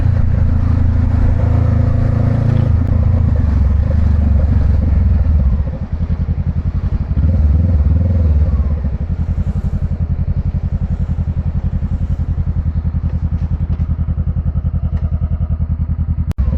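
Motorcycle ridden through city streets at night, engine droning loud and steady with strong low rumble, slight easing partway, plus occasional clatter and thumps of the road.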